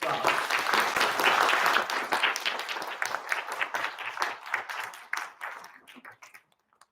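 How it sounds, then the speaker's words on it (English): A round of applause from faculty gathered at a college preservice event, dense and steady at first, then thinning into scattered claps before fading out. "Let's give them a round of applause."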